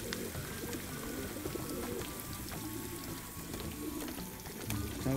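Water sprays and patters steadily while pigeons flutter and splash about underneath, with faint pigeon sounds mixed into the constant hiss.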